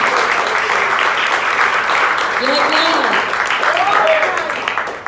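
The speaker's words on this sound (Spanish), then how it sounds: "Dale una ofrenda de palmas al Señor." Church congregation clapping in praise to the Lord, a dense, loud roar of hands that carries on throughout while a voice speaks over it and sings briefly.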